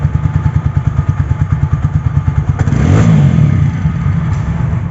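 A TVS Apache 4V ABS motorcycle engine runs close by with a steady, throbbing idle pulse, then swells briefly into a louder rev near the middle before settling back to a running idle.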